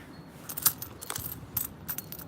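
Small metal yen coins jingle and clink in a few quick bursts, close by and fairly quiet, with brief pauses between handfuls, on a Tokyo street.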